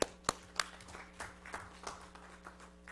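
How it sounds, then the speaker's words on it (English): Scattered, fairly light applause from people at a city council meeting, a few sharp claps standing out at first, then thinning into softer uneven patters over a low steady hum of the room. "Let's give them a round of applause for that."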